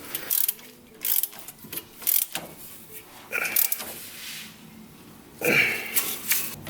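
A hand ratchet tightens bolts while axle spacers are installed on a Nissan 350Z, close-up bursts of rapid clicking in several short runs separated by pauses.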